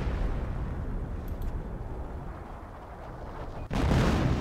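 Artillery salvo landing in the strategy game Company of Heroes, a rumbling wash of distant explosions followed by a sudden louder boom near the end.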